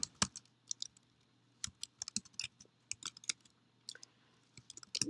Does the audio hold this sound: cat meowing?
no